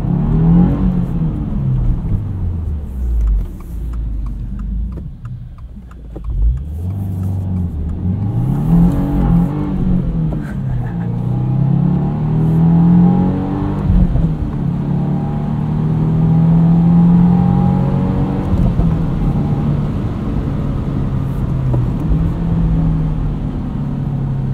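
A 2022 Subaru WRX Premium with a six-speed manual revs up and down through repeated gear shifts, its engine note rising and dropping in steady sweeps, loud and close with no talking.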